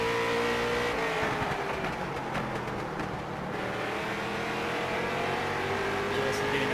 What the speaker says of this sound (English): We'll go on board with the iRacing Chevrolet and the longtime iRacer here